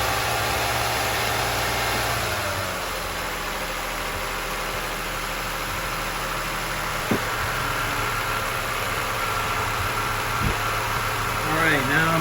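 A Lexus RX idling in a driveway about eleven minutes after starting, a steady low hum and vibration running throughout, with someone talking over it and a few small clicks and knocks near the end.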